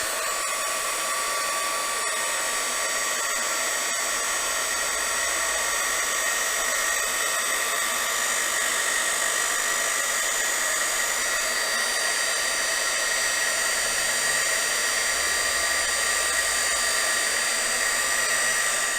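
A heat tool melting embossing powder on a lettered sentiment blows with a loud, steady electric whir, like a hair dryer. It runs close and unbroken for the whole stretch.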